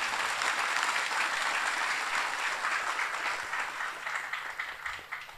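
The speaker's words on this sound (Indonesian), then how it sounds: "Tepuk tangan untuk beliau." An audience applauds at a Nahdlatul Ulama gathering in Sampang, the clapping steady and fairly faint, thinning slightly toward the end.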